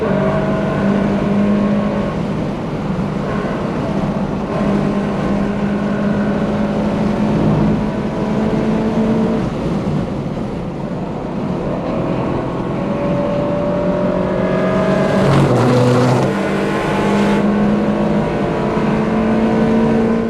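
A race car engine at Watkins Glen drones loudly and steadily through the lap, its pitch rising and falling with gear changes, with a sharp burst of revving near the end; no voices.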